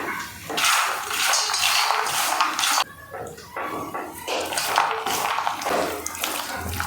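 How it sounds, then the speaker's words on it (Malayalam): Water is poured into a masala peanut mixture of rice flour and salt, a continuous splashing pour with a brief pause, close and alone. "നമുക്ക് കുറച്ച് വെള്ളം ഒഴിക്കാം"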